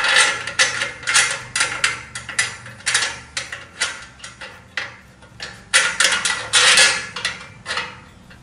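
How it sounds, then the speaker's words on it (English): A wrench ratchets repeatedly while a U-bolt is tightened onto the rear cross member of a boat trailer to mount a walking platform, giving close metallic clicks in short uneven bursts. "Tighten the bolt securely, alternating on each side."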